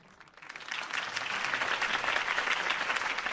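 Crowd applause in Batman: The Telltale Series, rising quickly from quiet into dense, sustained clapping from a sizable audience at a campaign rally, with no voices over it.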